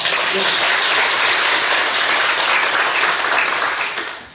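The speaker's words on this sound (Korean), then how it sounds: "박수 한번 치겠습니다" A church congregation at a Sunday service applauds together, a loud, even wash of clapping that holds steady for a few seconds before tapering off.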